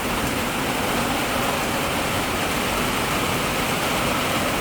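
Heavy rain pours down steadily outdoors near a container garden with rain barrels, a dense, even hiss with no breaks and no talking.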